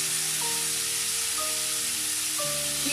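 Chopped bell pepper sizzles in a pan of Nigerian tomato and egg sauce, a steady close frying hiss with a few faint tonal beeps from the kitchen in the background and no talking.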